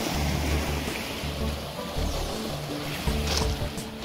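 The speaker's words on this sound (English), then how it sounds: "Almost sound like a waterfall from a distance." Steady broadband rush of water, like waves or a waterfall heard from a distance, continuous and fairly even at a provincial park shoreline in early morning, with no talking.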